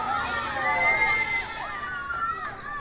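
A wrestling event crowd in an arena shouting and cheering, a dense, moderately loud wash of many voices with high children's yells rising and falling throughout.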